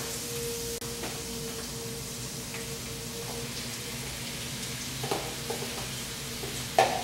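Shrimp browning in a hot pan give off a steady, moderate sizzle over a constant low hum, with a few soft clinks and taps near the end.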